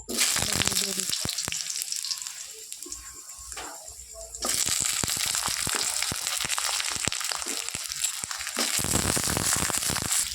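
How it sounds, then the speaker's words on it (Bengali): Potatoes frying in hot oil in a home kitchen, a close, loud sizzle broken by scraping and clattering as they are moved around, with the hiss swelling sharply partway through; no talking. "এবার আলুগুলি একটু ভেজে নেব তেলটা গরম হয়ে গেছে"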